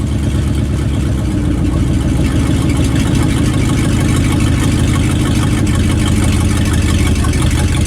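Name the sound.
1967 Dodge Dart engine running and idling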